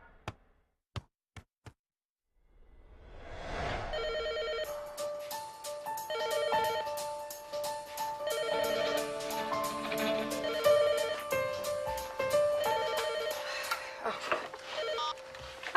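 A telephone rings with repeated bright electronic trills after a few sharp ticks at the start, the ringing continuing loud and close for over ten seconds with some voices under it.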